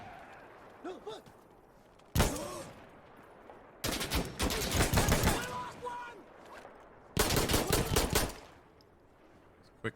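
Pistol gunfire in Insurgency: Sandstorm comes as loud, close bursts of rapid shots, with a sudden crack, a longer volley, then another sharp burst, and quieter ambient noise between them.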